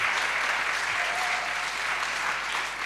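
An audience at a talk applauds for local associations, a continuous dense clapping from many hands, loud and even from start to finish.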